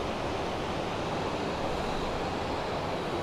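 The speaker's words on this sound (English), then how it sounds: "this is the water of Leith, and as it flows, the way it's flowing is taking it out to the port of Leith" The Water of Leith flows through Dean Village in Edinburgh, a steady, fairly loud rushing wash of water with some wind buffeting, continuous and unbroken with no talking.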